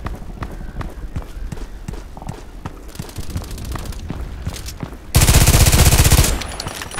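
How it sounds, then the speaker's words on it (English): Rapid automatic gunfire from a weapon in the online shooter Contract Wars, sharp repeated shots in quick bursts, ending in a loud dense sustained volley of fire near the end. "Okay, now he's shooting."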